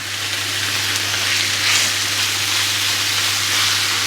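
Pieces of lamb sizzle steadily in a hot pan, a dense even frying hiss that runs continuously at close range with no talk over it.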